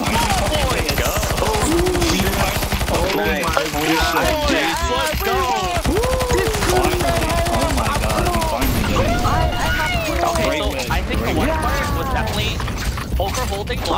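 Rapid bursts of gunfire in the game CS2 Zombie Escape on a descent map, dense clattering shots from several guns layered under excited voices talking and calling out throughout.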